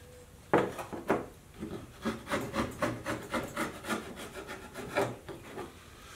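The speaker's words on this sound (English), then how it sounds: "I take the ear and I hook it on the side of my table and I just scrape it down on both sides." A tool scrapes down the wooden side bars of an old beehive frame hooked against a table edge, giving a steady series of about a dozen rasping strokes, close and moderately loud, with no talking.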